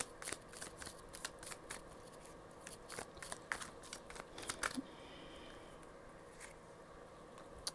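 Tarot cards are shuffled steadily, a run of quick, crisp riffling flicks and slaps close to the microphone, with no talking over them.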